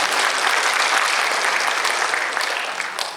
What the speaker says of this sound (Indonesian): Kita berikan tepuk tangan kepada Bapak Ibu.